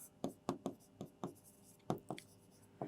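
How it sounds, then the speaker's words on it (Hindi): Pen or marker strokes on a board or paper while explaining a train line in an upline direction toward divisional headquarters, a series of sharp, brief scratchy taps in an irregular rhythm, close and fairly quiet. "मैं लिख भी देता हूँ"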